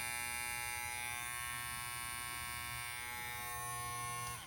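Babyliss hair clipper running in extra boost mode: a steady, close electric buzz with a constant high-pitched whine, holding for several seconds before cutting off at the end.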